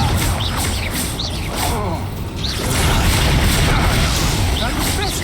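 Bombarda and Confringo spell blasts from the Hogwarts Legacy video game, a run of loud booms and crashes mixed with whooshing magic and mechanical clatter, with game voices and sharp chirps over the din.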